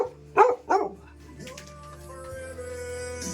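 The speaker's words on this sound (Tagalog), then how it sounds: "Laking aso oh." A big dog barks twice in quick succession, loud and close, followed by quieter whining and low background sounds outdoors on a mountain.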